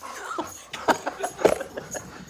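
Dogs whimpering and yipping in short, high whines, several separate bursts close by, with some faint background noise and no clear speech.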